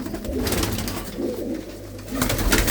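A few blue-footed pigeons give low, throaty coos in short repeated bursts against a constant background rumble, close by and fairly clear.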